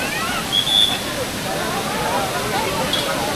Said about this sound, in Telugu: నేను ఎన్నో వాటర్ ఫాల్స్ చూసినా కానీ ఇంత మంచి వాటర్ ఫాల్స్ ఎప్పుడు చూడలే.